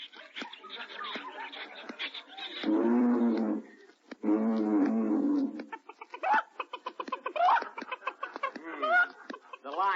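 Old-time radio sound effect of a Central Park Zoo scene, with chicken clucking and animal cries, some of them voiced, mixed with bursts of louder roaring sounds, moderately loud and without clear speech.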